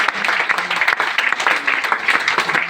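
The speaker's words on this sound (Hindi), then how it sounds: "जोरदार ताली आप सभी के लिए।" An audience at a Hindi-language talk breaks into loud, sustained applause, dense overlapping hand claps rising and falling in waves, close and continuous.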